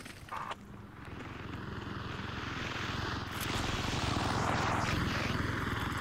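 A video-game helicopter flies with a steady, loud rotor and engine drone that swells slightly as it nears, filling the scene without talk.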